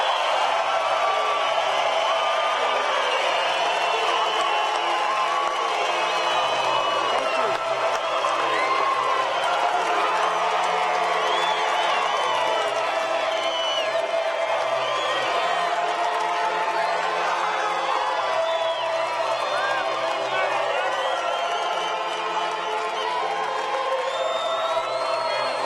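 Excited rally crowd at the Rimrock Auto Arena at Metro Park in Billings, Montana, cheering, whooping and clapping continuously in a large indoor hall, a dense sustained roar with shrill whistles on top.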